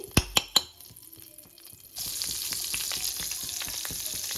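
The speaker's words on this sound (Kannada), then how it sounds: "ಈಗ ಬೆಣ್ಣೆದು ಹಾಕೋಣ, ಅದು ಮೆಲ್ಟ್ ಆಗಲಿ." Butter melting in a hot, dry pan while cooking crab soup. A few sharp clinks come first, then a steady loud sizzle begins and continues with crackling pops.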